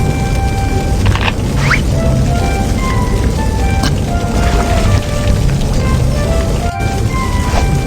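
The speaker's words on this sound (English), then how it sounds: "Make a wet towel first." Water soaks a towel in the Baby Panda rescue kids' game, a dense, steady hiss of running water that stays loud and even throughout, with light chimes scattered over it.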